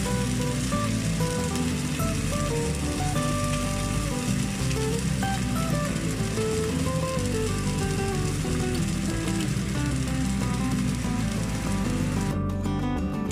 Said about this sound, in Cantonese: 咁煎到呢魚肉嗰邊就開始金黃色啦